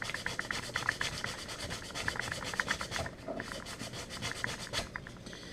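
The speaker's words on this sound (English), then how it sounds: "And then I take 220 sandpaper and sand" Back-and-forth rasping of 220-grit sandpaper worked along the edge of a handmade Kydex holster, a steady rhythmic rub of close, even strokes with a brief pause midway, heard alone without talk.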